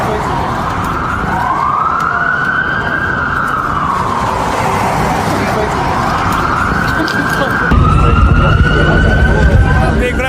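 Police and ambulance sirens wail outside a Washington hotel after a shooting. The sweeping tones rise and fall continuously, loud and close, layered over one another, with traffic rumble and a louder, steadier siren taking over near the end.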